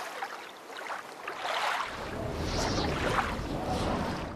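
Yacht on open water in a children's educational vehicle cartoon: a soft whooshing wash of water and wind swells and builds into a steady low rumble, moderately close, without any voices.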